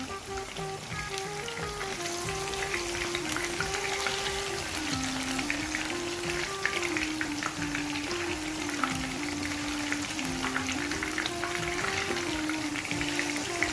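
Lahori-style fish fries in hot oil, giving a loud, dense, continuous crackling sizzle with a faint tonal hum beneath, close and steady throughout.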